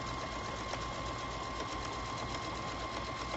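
A sewing machine stitching a pillow cover runs at an even, moderate pace, giving a quiet, continuous mechanical whir with a faint steady tone, with no speech.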